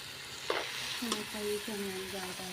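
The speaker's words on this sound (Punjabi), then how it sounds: "ਆਪਾਂ ਜੀ ਪਿਆਜ਼ ਦੇ ਵਿੱਚ ਇਹਨਾਂ ਨੂੰ ਚੰਗੀ ਤਰ੍ਹਾਂ ਮਿਕਸ ਕਰ ਦਾਂਗੇ" Chopped ridge gourd is stirred into onions frying in a pan, giving a soft continuous sizzle with a few clinks and scrapes of the spoon against the pan over a short moment.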